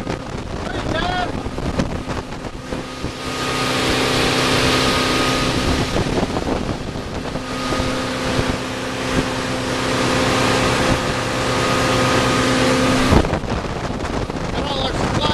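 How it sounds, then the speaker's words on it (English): Small fishing boat under way on open water, a steady engine drone with a rushing hull and heavy wind buffeting the microphone, loud and continuous, with a voice speaking briefly at the start. "Now we're finally off on the boat!"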